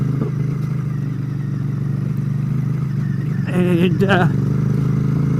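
Royal Enfield Bear 650 motorcycle engine rumbling steadily while riding up a slippery hill off a causeway, low and continuous, with someone talking over it and brief clattering bursts partway through.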